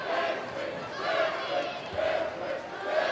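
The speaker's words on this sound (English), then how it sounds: "So the Blue Jackals cheer section right down there harassing the shooter like they should be" Student cheer section yelling and jeering at an opposing free-throw shooter during a high school boys basketball game, a sustained roar of voices rising and falling in waves.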